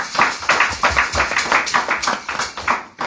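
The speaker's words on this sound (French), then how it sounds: "Acclamons pour le Seigneur." Church congregation clapping in steady rhythmic unison for about three seconds, a dense, lively beat of many hands filling the room, with no voices over it.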